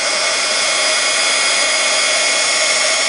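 Steady, loud whoosh of a heat tool blowing hot air to melt Ranger embossing powder for a polymer clay crown and shield pendant, a constant broadband roar with no pauses for the full stretch.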